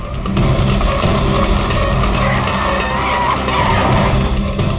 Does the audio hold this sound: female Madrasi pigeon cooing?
no